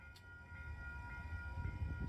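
San Diego trolley train running toward the Mexican border, a faint steady rumble of wheels on track with sustained whining tones, heard from inside or close by.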